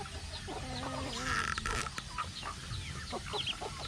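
Domestic chickens cluck and call in a backyard pen of about forty birds, a rooster's crow rising among the overlapping clucks at moderate distance, with no talk.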